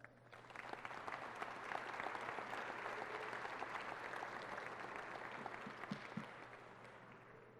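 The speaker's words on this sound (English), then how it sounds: "so we'll give them a round of applause." An audience at a public safety awards ceremony claps in a sustained round of applause that swells, holds steady for several seconds, then begins to taper off, heard from a distance in a large room.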